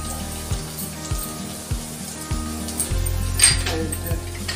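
Potatoes, cauliflower and carrots fry in a pan on a low gas flame, giving a steady close sizzle with a few soft knocks of a spoon stirring through the vegetables.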